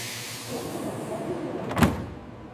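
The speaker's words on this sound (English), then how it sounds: "The doors close." A short mechanical slide ends in a soft thud as the doors of a Japanese luxury sleeper train shut, heard over a steady low hum of the station platform.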